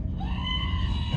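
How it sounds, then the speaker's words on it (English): A goat bleats with a drawn-out, wavering cry on the Port Aransas ferry over a low rumble of wind or engine noise; no one speaks. "Goat overboard."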